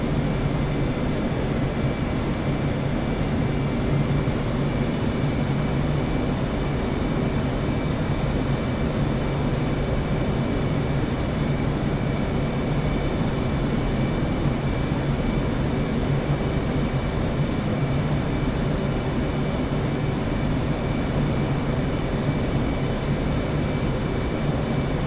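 Aircraft engines in a flight simulator game hold a loud, steady, broadband roar as power is added, an even unbroken drone with a faint high whine throughout and no speech.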